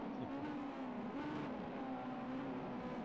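Ginetta GT5 race car in a PC racing game on Oulton Park's Island circuit, engine droning steadily with small shifts in pitch, fairly quiet and continuous with no voices.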